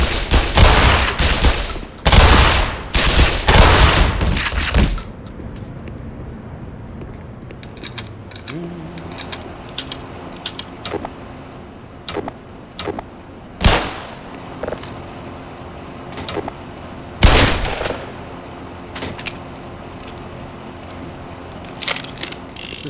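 Loud bursts of Kalashnikov-style automatic gunfire in Half-Life Black Mesa, clustered in the first five seconds and then scattered sharp shots, with mechanical clanks and a low game ambience between them.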